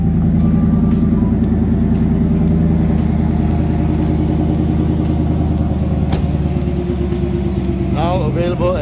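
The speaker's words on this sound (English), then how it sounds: "Strong motor. Good exhaust note" A 1989 Holden VN Calais with a 5.0-litre V8 idles steadily, its low rumbling exhaust loud and close throughout, and a voice briefly comes in over it near the end.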